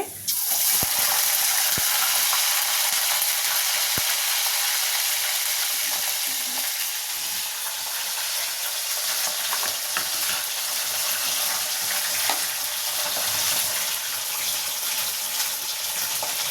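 Pieces of fish fry in oil in a pan over a high flame, giving a loud, dense, continuous sizzle and crackle with small scattered pops throughout.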